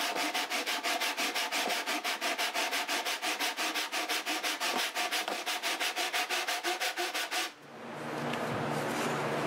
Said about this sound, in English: I won't be able to talk while I'm sanding, it'll just probably be too loud.